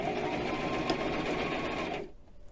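A sewing machine runs at a steady, fast stitch while sewing a backstitch at the end of a seam, then stops abruptly after about two seconds, leaving quiet room tone.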